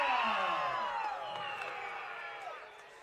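A college football crowd at a Ripon College versus Lawrence University game whoops and cheers along with a first down call, rising voices that slide in pitch and gradually fade.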